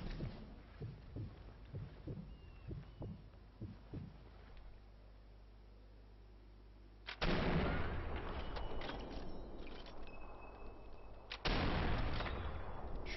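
Rifle shots from the Sniper Elite 4 video game: a run of sharp, evenly spaced cracks, then two loud booming reports, each rolling into a long echoing tail, with faint background ambience between them.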